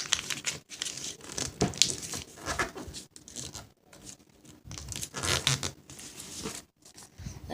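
Paper is creased and folded by hand for an origami parrot: close, crisp crinkling and rustling in irregular bursts separated by brief quiet gaps, with no talking.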